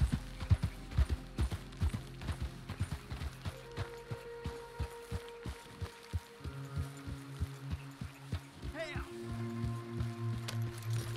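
Horse hooves clatter in a fast, irregular run through Red Dead Redemption 2's wilderness, steady and fairly close, with game ambience and a voice talking over parts of it.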